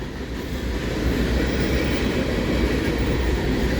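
A CN freight train rolls past the VIA Rail station in London, Ontario, giving a steady, loud, close rumble of wheels and cars that holds constant throughout.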